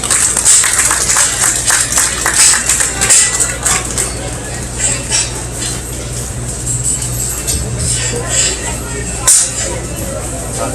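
Applause and scattered clapping ring out in a livestock show arena at a market swine show, a crowd clapping for kids with an announcer's voice and background chatter mixed in.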